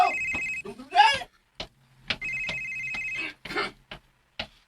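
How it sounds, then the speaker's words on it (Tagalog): A cellphone ringtone trills in repeated bursts, loud and close, while someone shouts over it between rings. "Imong cellphone ring man, dog!"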